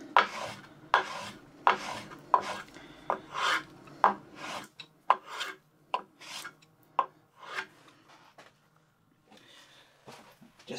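Knife blade stropped on a homemade strop, a rhythmic series of close raspy strokes, steady at first, then slower and more spaced, fairly quiet with no speech.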